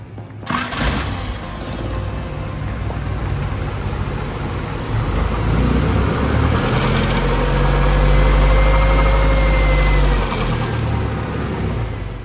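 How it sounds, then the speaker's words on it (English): A 1986 Honda Accord with an A-Series engine and a rod knock cranks and starts, then runs loud and close with a rough, rumbling idle and a rise in revs midway, with no talking. "we have a rod knock coming from the engine"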